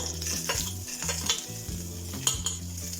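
Mustard seeds, dried chilli and lentils sizzle in hot oil with a steady fizzing crackle, mixed with light stirring and faint clinks of a utensil on the pan, and no voice is heard.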